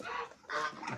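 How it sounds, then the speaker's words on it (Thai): A bantam chicken clucks twice in quick succession, close and clear, with a short pause between the bursts. "ตัวนี้ก็ไก่แจ้ครับฮะ"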